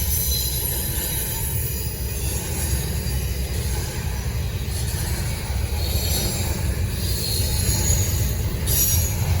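A Norfolk Southern freight train hauling JB Hunt intermodal containers rolls past close by on the Charlotte District, a steady, loud rumble of wheels and cars with faint high squeals, and no voices.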